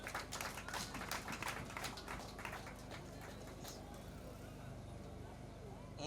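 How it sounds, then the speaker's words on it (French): An audience applauds at a ceremony, with a burst of dense clapping that fades after a few seconds into quieter room noise, all at low level. "À présent, nous applaudissons s'il vous plaît."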